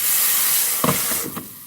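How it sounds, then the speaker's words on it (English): Water poured into a hot pan to steam an egg hisses loudly and steadily, with brief sputtering bursts as it sizzles and spits. "add a little water because that'll help with the steaming process"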